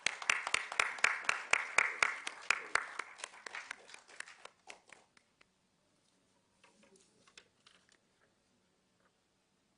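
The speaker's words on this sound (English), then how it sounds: "Please, can we have a round of applause?" Audience clapping in a conference hall at a world conference on blindness, loud and dense at first, then thinning to scattered claps and fading out after about five seconds into near silence.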